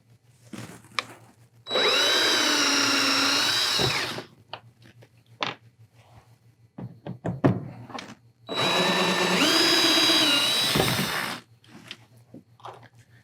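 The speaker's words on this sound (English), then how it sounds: "So if you just go ahead and back those screws out," A power drill backs screws out of the gunnel of a MirageDrive kayak, running in two sustained whirring bursts of a few seconds each, close and loud. Scattered clicks and handling noises come between the bursts.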